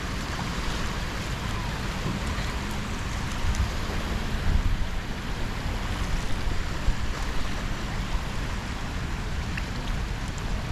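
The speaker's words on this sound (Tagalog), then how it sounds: "Ang ganda lang tignan yung alon" Ocean waves wash continuously onto Boracay beach, a steady rushing surf mixed with wind noise and no clear speech.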